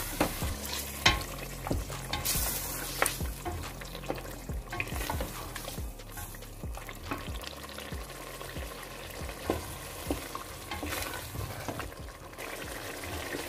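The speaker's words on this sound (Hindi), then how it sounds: "इसको हम 2 से 3 मिनट तक अच्छे से भूनेंगे।" Meat with turmeric powder sizzles and fries in a pot for palak gosht while a spoon stirs it, steady quiet frying with repeated scraping taps and no talking.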